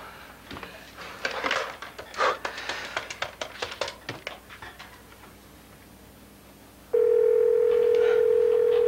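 A phone call rings out: after a few seconds of rustling and handling noises, a steady electronic telephone tone starts and holds loud and continuous to the end.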